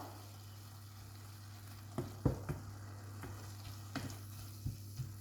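Stuffed vegetables with grated garlic cook in a pan over a steady low hum, with a handful of sharp scraping stirs and clicks spaced a second or so apart, close and without talk.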